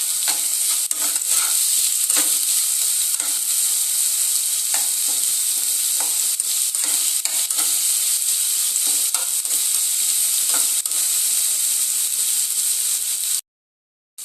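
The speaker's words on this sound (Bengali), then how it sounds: "টমেটো কুচিটা তেলের মধ্যে একটু ভেজে নেব।" Chopped tomato fries in oil with onion paste for a katla fish curry, giving a loud, continuous close sizzle with frequent scraping stir strokes against the pan. The sound cuts off abruptly near the end, and no one speaks.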